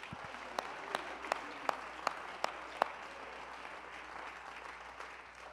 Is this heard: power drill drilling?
no